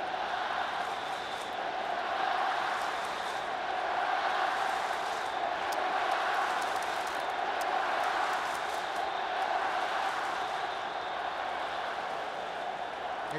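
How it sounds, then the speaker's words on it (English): Baseball crowd at the Tokyo Dome during a Japan versus Chinese Taipei game, a steady broad roar of a large indoor audience that is constant and moderately loud, with sharp cheers and clattering noisemakers on top. "crowd here at the Tokyo Dome. They are into it."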